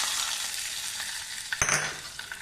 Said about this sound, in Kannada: ಒಗ್ಗರಣೆಗೆ ಅರ್ಧ ಚಮಚ ಉದ್ದಿನಬೇಳೆ, 1/4 ಚಮಚ ಸಾಸಿವೆ, 2 ಒಣಮೆಣಸಿನ್ಕಾಯಿ ಚೂರು, ಇಂಗು, 1 ಚಮಚ ಕೊಬ್ಬರಿ ಎಣ್ಣೆ ಹಾಕಿದ್ದೀನಿ.